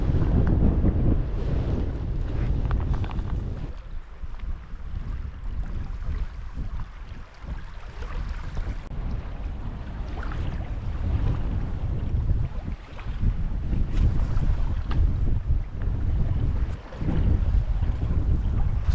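Strong wind roars against the microphone while a canoe runs downwind on a Scottish sea loch near Kylesku, a loud continuous gusting buffet with water washing beneath, no voices.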